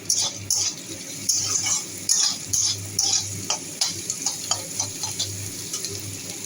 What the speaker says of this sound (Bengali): পেঁয়াজ হয়ে গেছে ভাজা